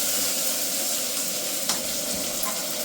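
Okra and shallots sauté in a pan for sambar, giving a loud, even hissing sizzle that fills the moment, with one brief scrape of a utensil, close up and without talk.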